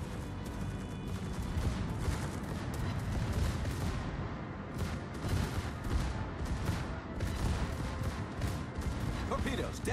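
Naval gunfire from World of Warships, with the heavy guns of the Schlieffen battleship booming in continuous, loud, dense volleys and rumbling explosions throughout, with a voice briefly heard.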